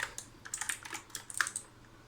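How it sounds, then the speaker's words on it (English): Armaggeddon MKA-2C mechanical keyboard with blue switches, typed on in quick irregular bursts of sharp, crisp clicks, close and fairly quiet, with no talking. "you are getting that clicky sound because of blue switches"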